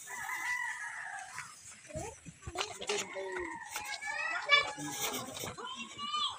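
Chickens cluck and squawk in a lively, close cluster, with children's voices chattering in the background.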